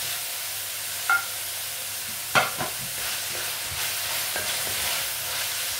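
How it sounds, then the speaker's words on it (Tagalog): Chopped garlic fries in a pan and gets stirred for a chicken and vegetable dinner. Steady close sizzling runs throughout, broken by a few sharp utensil scrapes and knocks, with no talk. "Mix-mix lang hanggang maluto."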